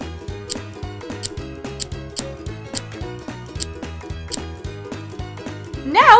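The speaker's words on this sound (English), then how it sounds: "Cut out a heart shape." Scissors snipping a heart shape out of a kitchen sponge, a close, even series of sharp clicking cuts in steady rhythm, with a brief different noise at the very end and no speech.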